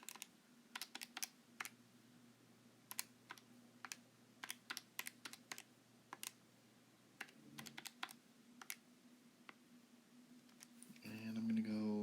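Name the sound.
typing on a computer keyboard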